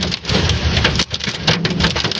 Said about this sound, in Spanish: Lluvia de granizo, señores